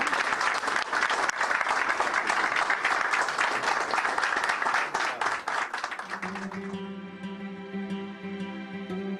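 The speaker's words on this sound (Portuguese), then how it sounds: "Salve de palmas para o nosso Brasil." An audience at a Bolsonaro event applauds for Brazil, with dense sustained clapping that fades out into a held musical tone.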